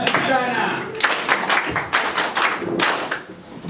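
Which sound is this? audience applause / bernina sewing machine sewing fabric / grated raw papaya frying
audience applause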